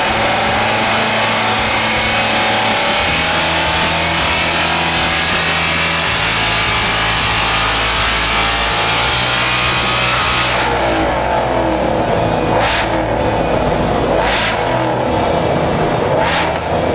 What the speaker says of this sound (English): We've run the car up on the dyno on the stock Whipple file.